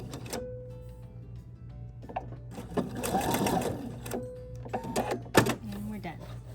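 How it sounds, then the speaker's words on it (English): A sewing machine runs a seam on a sunglass holder necklace, with short bursts of stitching between pauses and a longer steady run in the middle, heard close up over a low background hum. "now we'll sew the same seam down the other side"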